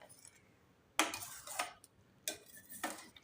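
Ghee-fried cashews and raisins being stirred into sweet sakkarai pongal: quiet background broken by several bursts of spoon scraping and clattering against the pot, close and brief, no talking.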